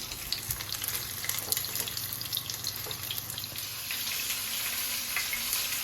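A rib steak, reverse-seared, sizzles in butter in a hot pan, giving a steady bright hiss with small spitting crackles throughout and no voices.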